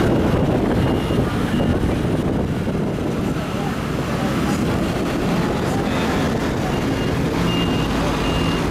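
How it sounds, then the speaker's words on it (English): Scooter riding at night through Taipei streets, a constant rumble of engine and traffic with heavy wind buffeting the microphone, occasional faint beeps, and a voice talking over it. "Night driving in Taipei is quite fun."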